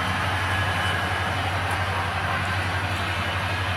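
A continuous low rumble and hum of a small train running steadily along its track, even and unbroken throughout.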